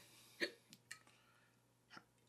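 A person hiccups several times, irregularly spaced: one sharp hiccup, a couple of softer ones shortly after, and another a second later, all quiet and close with no talking.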